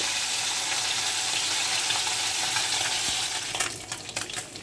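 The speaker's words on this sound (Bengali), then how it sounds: "অল্প অল্প করে ভেজে নিচ্ছি" Fresh mourala fish fry in hot oil in a wok, a loud, even crackling sizzle that runs continuously, then eases near the end as a few stirring clatters and scrapes cut through.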